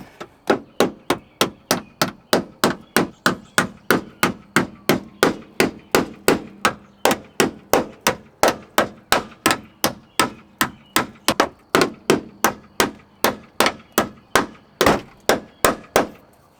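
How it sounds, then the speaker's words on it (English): Steady series of sharp metal hammer blows on the pinch welds of a 4th gen Toyota 4Runner, about two to three strikes per second for the whole stretch, loud and close with no talk. "I'm just going to start hammering"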